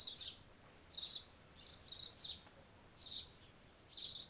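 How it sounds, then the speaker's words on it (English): Birds chirping outdoors in short bright bursts, five or six clusters of quick tweets spaced about a second apart, moderately near over a faint steady background hiss. "I could just listen to the birds?"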